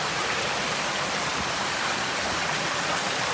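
A forest stream flows through old-growth woodland at night, a close, loud and steady rushing of water with an even hiss throughout and no voices.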